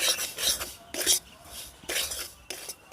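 A spoon scrapes and stirs semolina toasting in ghee in a pan, producing close, repeated rough scraping strokes with light metallic clinks in an irregular stirring rhythm, with no one talking.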